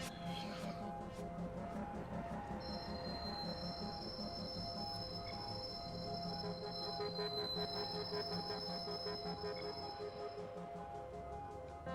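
A train rolls past in the Watch Dogs video game, a steady rumbling of wheels with a high, sustained metallic squeal drifting over it at moderate volume.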